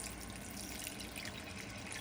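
Water pours steadily into a pot on a stove, a continuous close rushing splash that holds even for a couple of seconds with no voices.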